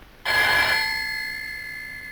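A telephone bell rings loudly once, a bright metallic burst that cuts in sharply and then rings on, slowly decaying, alone with no voices over it.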